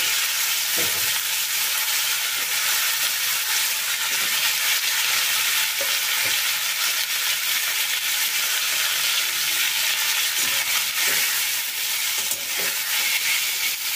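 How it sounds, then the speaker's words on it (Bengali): Continuous loud sizzling of cauliflower frying in oil, close up, with occasional stirring scrapes throughout and no talking. "সেই ফুলকপিগুলো এখন এই তেলে দিয়ে আমি একটুখানি ভেজে নেব"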